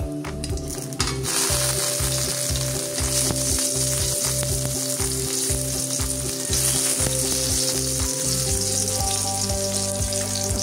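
Food fries loudly in a pan just after spring onion is added, a thick continuous sizzle with a steady rhythmic thumping underneath and a brief clatter at the start, close, with no talking.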